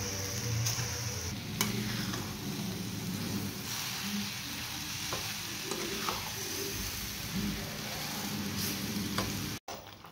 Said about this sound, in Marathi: आता आपली कैरी या पाकामध्ये शिजत आहे